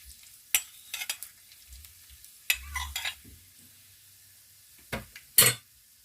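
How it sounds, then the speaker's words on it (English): Onions tossed into a pan for Kenyan-style beef stew, with sparse scraping stirs and short bursts of sizzling separated by quiet gaps, close and fairly soft. "So let's start by adding our onions."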